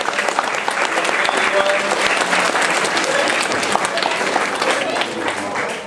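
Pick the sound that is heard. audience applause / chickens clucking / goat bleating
audience applause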